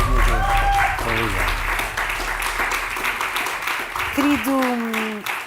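A studio audience on a Portuguese television talk show applauds warmly, a dense burst of clapping that carries under swelling music and fades as a host and guest begin speaking.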